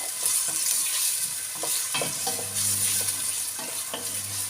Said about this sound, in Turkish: Bunları güzel şimdi kavuracağım.